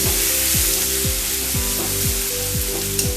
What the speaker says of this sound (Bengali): শুধু আদা আর লঙ্কা কুচি এবং জিরে ফোড়ন দিয়ে এটাকে একটু আমি ভাজা ভাজা করে নেব